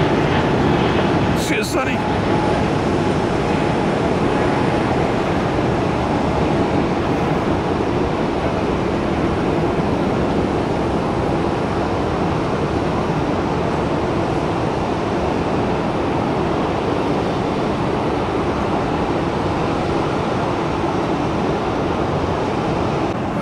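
An airliner taxiing at Tampa airport toward runway 19 right, a broad steady roar of jet engines heard from a distance, with a brief voice early on.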